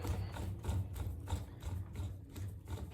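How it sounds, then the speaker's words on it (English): A grease gun canister is screwed back into the gun, giving a steady, quiet mechanical rasping with repeated ratchet-like pulses, close and alone. "So you want to put your canister back in. You want to tighten it up."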